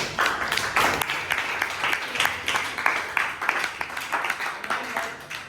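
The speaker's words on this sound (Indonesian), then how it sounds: "Jadi tepuk tangan kita semuanya." A group of students claps together in a classroom, with distinct rhythmic, slightly uneven bursts of clapping repeating through the clip, fairly close and without talk.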